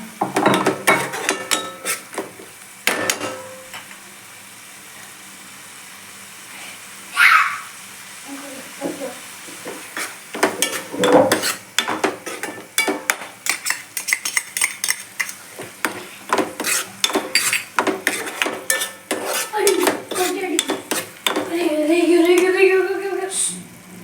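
A spoon stirs onion, tomato and chili sauce in a pan, making scattered scraping clinks and taps against the metal over several seconds, with a voice talking softly now and then.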